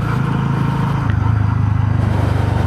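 A Honda CB 125 motorcycle ridden through city streets, its engine giving a steady, close, loud drone with a slight rise in the middle and no voices over it.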